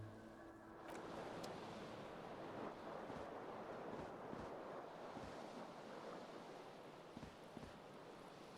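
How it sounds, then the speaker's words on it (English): A cool wind gusts in the video game Disco Elysium, a continuous broad rushing sound like surf and blowing air, with a few soft knocks scattered through it. "A cool wind gushes in."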